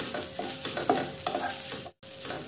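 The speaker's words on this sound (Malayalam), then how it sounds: "അപ്പോൾ കൈ വിടാതെ ഇളക്കി കൊടുത്തുകൊണ്ട് വേണം ഇത് വറുത്തെടുക്കാനായിട്ട്." Grated coconut is stirred and roasted in a pan until golden, with repeated close scraping strokes over a light sizzle, in a quick, uneven rhythm.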